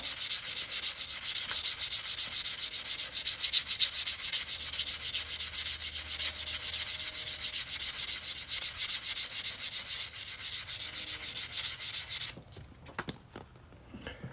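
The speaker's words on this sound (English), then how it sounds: "What I was doing there is just sanding this cut edge to make it nice and smooth." Steady, continuous gritty rubbing of sanding on the cut edge of a silver half dollar coin being made into a ring, going on for a long stretch before stopping abruptly near the end.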